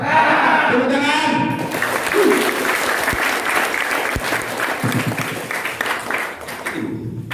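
Applause from a gathering at an Indonesian group iftar and fellowship event, clapping rising after a spoken cue and holding steady, with voices briefly heard at the start.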